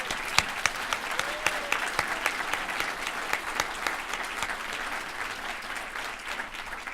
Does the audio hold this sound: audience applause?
yes